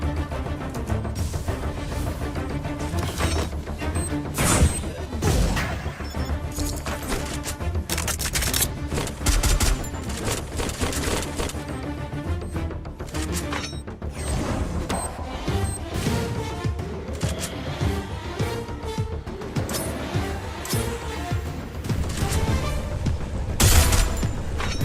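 Gunfire in the Free Fire video game: dense, loud bursts of rapid shots and fusillades with sharp cracks and booms, sustained throughout with little pause.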